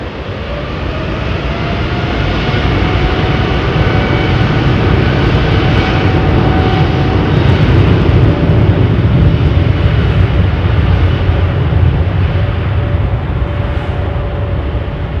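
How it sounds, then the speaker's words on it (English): Airbus A350-1000 engines in Team USA livery at London Heathrow produce a loud, unbroken roar with a dense rushing hiss that stays level for about fifteen seconds, with no voices. "Team USA livery on the Airbus 350-1000"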